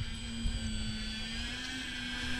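A small Arrows RC Bigfoot model plane with its electric motor running in flight, a steady sustained whine with a constant pitch that holds evenly throughout at a moderate distance, with no talking.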